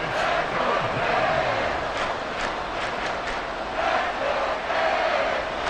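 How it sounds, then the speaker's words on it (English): Stadium crowd noise in a Madden NFL 24 football game between the Jacksonville Jaguars and Miami Dolphins: a loud, continuous roar of cheering and shouting that swells and dips throughout, with no speech over it. "this crowd doing their best to make a lot of racket"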